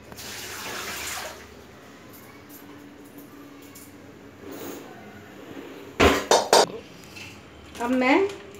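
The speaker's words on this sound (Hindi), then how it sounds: "काट के मैं अब इसे धो के रख लूँगी।" Taro leaves rinsed in water at a kitchen sink: quiet running water with soft splashing, then a few sharp clinks of a pot or utensil and a brief louder rush of water near the end.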